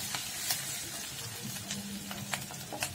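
Onions sizzle softly in a kadai with light scraping as they're stirred, a low continuous fry broken by small ticks and clinks.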